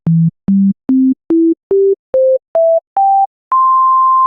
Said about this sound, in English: That is a sine wave coming out of Serum.